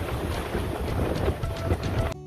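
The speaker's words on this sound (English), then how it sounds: "Listen to the waves bashing the boats in the marina in Pinellas County." Storm-driven waves from Tropical Storm Eta slosh and slap against boats moored in a Pinellas County marina, a steady roar of water and wind buffeting the microphone, with no talk, cutting off abruptly near the end.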